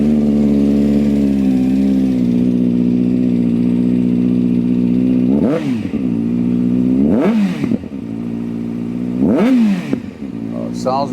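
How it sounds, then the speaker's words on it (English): Kawasaki ZX6R motorcycle fitted with a new slip-on exhaust idles loudly and close, then gets three sharp throttle blips that rise and drop back to idle. "I'm going to start it up and see what it sounds like"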